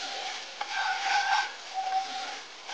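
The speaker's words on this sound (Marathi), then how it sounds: "मैदा व्यवस्थित आपण फ्राय करून घेऊया" About three spoonfuls of flour are fried in melted butter and oil, heard as a continuous soft sizzle with scraping stirring strokes at close range.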